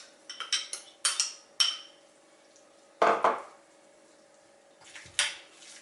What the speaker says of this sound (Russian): Все хорошо перемешиваю.